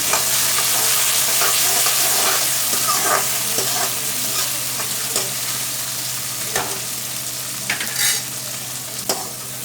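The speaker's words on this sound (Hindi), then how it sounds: "और ये गए टमाटर। अब अच्छे से इसको भून लेंगे।" Tomatoes tossed into a pan of oil with fried red chillies and spices, sizzling loudly and continuously up close while a spoon stirs them, with a few sharp scraping clicks.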